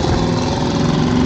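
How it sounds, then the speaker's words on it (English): A small crab-fishing boat's engine runs at a steady rough idle, loud and close, with a constant low mechanical drone and vibration. "Right, I'm gonna start the engine"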